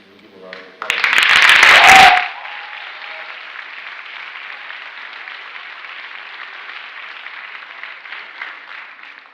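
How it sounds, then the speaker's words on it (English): An awards night audience gives a short, loud round of applause for families, about a second of dense clapping that cuts off sharply, followed by a quieter, hissy room tone. "So can we give a round of applause?"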